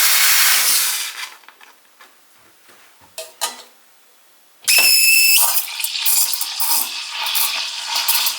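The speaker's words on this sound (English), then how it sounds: "We already filmed the frothing in advance, and you'll see it's just incredible how fast the machine is." An ECM Synchronika II espresso machine's steam wand frothing milk: a loud hiss at first, a quieter gap with a few light clinks, then a strong, sustained hiss with a shrill whistling edge.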